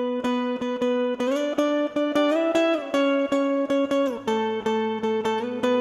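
Plucked guitar melody doubled an octave higher, spread left and right with reverb, plays a bright repeating line of evenly spaced picked notes, loud and alone.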